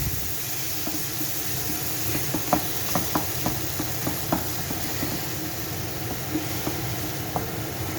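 About 200 grams of passata stirred into a Tikka Madras curry in a pan: a steady low sizzle and bubbling with a spoon scraping and tapping the pan in scattered light clicks, close by and without speech.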